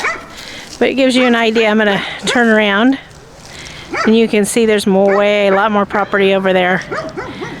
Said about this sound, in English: Sorry for the dog barking, guys,